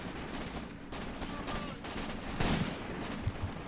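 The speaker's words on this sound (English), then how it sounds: "Some really close shots here." Close gunshots crack through a WWII battle near Shilovo, 1942, in Graviteam Tactics, with repeated sharp reports over a steady din of distant firing, moderately loud.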